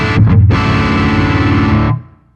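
Distorted, effects-laden electric bass tone played through a Boss Waza Tube Amp Expander with Mix Assist off, loud and dense for about two seconds before cutting off, with no talking.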